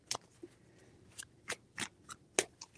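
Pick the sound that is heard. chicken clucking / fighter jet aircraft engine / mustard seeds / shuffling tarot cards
shuffling tarot cards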